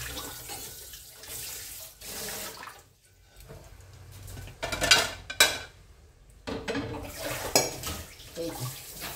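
Tap water runs weakly into a kitchen sink, splashing unevenly while dishes and cutlery clink and knock against each other, close by, with no talk.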